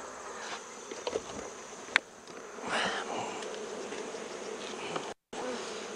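Honey bees buzz steadily at an opened hive of stacked boxes being rearranged for a cold-climate winter, a soft continuous drone with a few faint clicks and knocks of frames.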